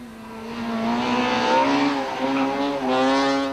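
A VW Polo Super 2000 rally car sliding around a tight stage, its engine droning loud and close with steady revs that dip and climb again as it slides.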